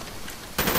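Gunfire from a Call of Duty Black Ops multiplayer match on the Summit map, a quiet lull then a sudden loud burst of rapid shots lasting the final moments.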